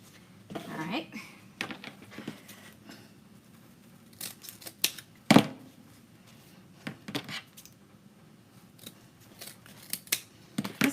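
Scissors snip through wreath-making mesh in a series of short, crisp cuts, sparse at first and then in quicker bursts, with faint handling rustles between them.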